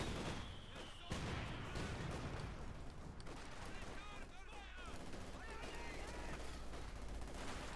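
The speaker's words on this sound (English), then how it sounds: "pushing them back with a few well-placed submachine gun hits" Submachine gun fire crackles in a 1v1 Company of Heroes 2 match, with dense, overlapping bursts of battlefield gunfire under continuous busy game sound, moderately loud throughout.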